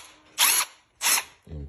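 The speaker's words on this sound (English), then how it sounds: "You know, it's my favorite drill." Milwaukee M12 cordless drill running in two short bursts of whirring, each about a quarter second, close and clear with a pause between, followed by a brief voice.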